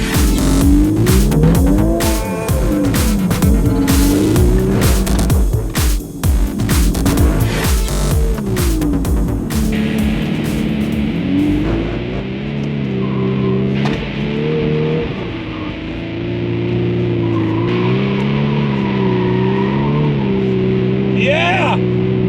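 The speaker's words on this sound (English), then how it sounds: "I'm going to see if the Golf can drift." A VW Golf R MK8 in drift mode revs hard, its engine droning and rising in pitch with tire squeal over a loud, continuous roar that later settles to a steady, lower rumble.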